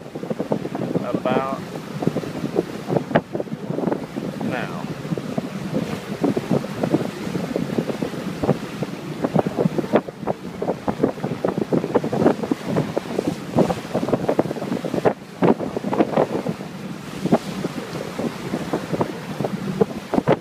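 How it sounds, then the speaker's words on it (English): Caribbean sea waves off Aruba slap and wash against a moving boat, a steady churning rush of water mixed with heavy wind buffeting the microphone throughout, with a faint voice briefly audible. "A couple of good sized waves coming."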